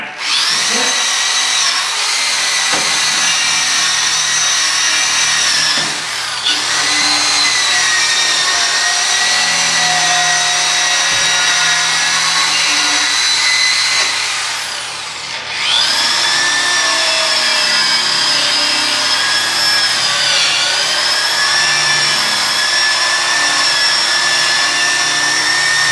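A power drill whines loudly and close, running in long continuous bursts with brief pauses and pitch shifts as it spins up again.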